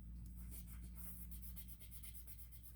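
A sticker is burnished down onto a Happy Planner page with quick, repeated rubbing strokes, a soft rhythmic scratching that is close and quiet.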